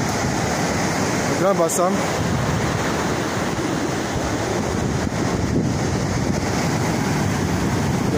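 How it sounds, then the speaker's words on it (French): Sea waves breaking at the shore in Grand-Bassam, a loud continuous roar of surf mixed with wind buffeting the microphone, while someone speaks briefly near the start. "La mer, regardez. La mer. Je suis au bord de la mer."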